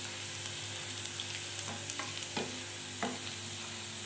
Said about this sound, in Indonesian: Bawang merah goreng ini nanti untuk taburannya.